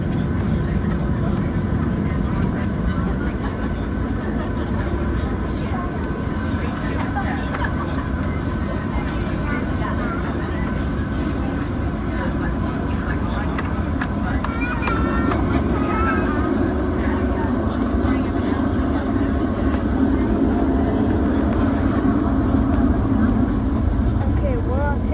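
Airliner jet engines idling and rumbling steadily inside the cabin while lined up on the runway before takeoff on an Austin to Las Vegas flight, with a constant low drone and faint higher whine throughout.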